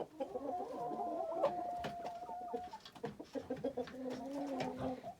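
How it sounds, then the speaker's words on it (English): Several chickens cluck and warble close by, overlapping murmurs and short calls with a few louder squawks, no talking. "we brought home more chickens"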